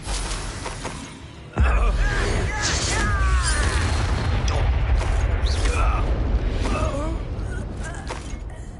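A fire spell is cast in Hogwarts Legacy: after a short lead-in, a sudden loud whoosh bursts out, followed by a sustained roaring blaze with crackling combat effects and occasional voices underneath, fading slightly toward the end.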